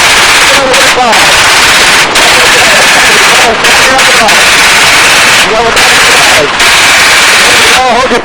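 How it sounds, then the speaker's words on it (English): Machine gun fired at an outdoor shooting range, loud close bursts of rapid automatic fire with short breaks between them, and voices audible between bursts. "That's how you shoot a fucking machine gun right there."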